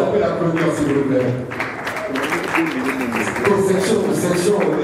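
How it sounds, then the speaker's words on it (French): An audience applauds at an event, a busy wash of clapping mixed with voices and crowd chatter throughout. "Est-ce qu'on peut l'applaudir, s'il vous plaît?"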